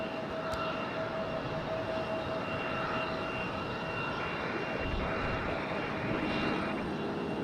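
Jet engines of an Airbus A321 airliner rumble steadily at Raleigh-Durham International Airport, a dense continuous roar with a thin high whine running through it, close and loud, with no talking.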